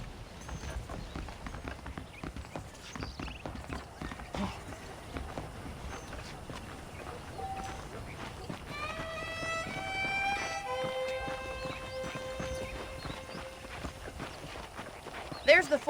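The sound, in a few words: horse hooves from the video game Red Dead Redemption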